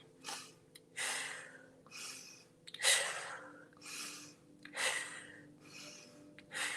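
A person demonstrates a breathing exercise, drawing sharp breaths in through the nose and pushing them out through the mouth, about seven quick, close, evenly spaced rushes of air with pauses between.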